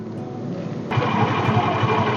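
A motorcycle engine running in first gear at a steady throttle during a rider training session, a close continuous drone that rises in level partway through and then holds steady.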